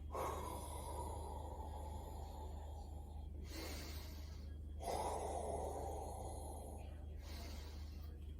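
Long, loud breath outs during a knee exercise, two sustained airy exhalations separated by short pauses over a steady low hum.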